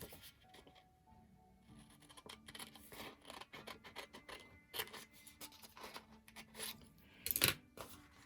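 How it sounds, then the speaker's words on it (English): Scissors cut across the top portion of a paper page in a series of quiet, close snips and crisp slicing strokes, ending in a sharper clip. "this top portion, I know we don't need, so we are going to cut it off."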